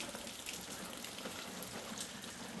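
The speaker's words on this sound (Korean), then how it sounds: "비가 많이 오고 있습니다." Heavy rain falls steadily around a backyard chicken coop, a dense, even hiss of drops with no pauses and no voices.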